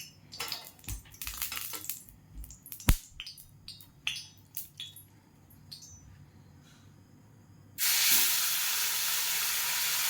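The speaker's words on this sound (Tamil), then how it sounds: "இப்போ நாங்கள் இதை பேனில் போட்டு ஷாலோ ஃப்ரை பண்ண போகிறோம்." Tilapia shallow frying in coconut oil in a pan: scattered sharp crackles and pops, then a loud steady sizzling hiss rising suddenly and holding, close by with no talk.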